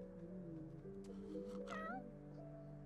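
A cat in The Sims 4 meows in a short rising and falling cry, heard over steady background game music.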